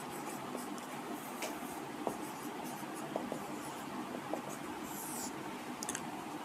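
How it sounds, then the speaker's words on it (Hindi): Chalk or marker writing a definition on a board during a maths lecture, soft continuous scratching strokes with faint taps, quiet and close, with no talking. "यहाँ डेफिनेशन लिखते हैं।"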